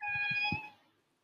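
A large, heavy pet cat gives a single drawn-out meow with a few soft low thumps beneath it, close and fairly quiet, fading out after about a second.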